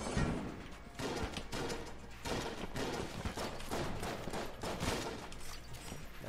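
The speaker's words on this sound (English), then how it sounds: "Let's just do the Void Shotgun." The Void Shotgun fires repeatedly in Enter the Gungeon: a steady stream of rapid, punchy shotgun blasts with mechanical clatter, dense and continuous for several seconds.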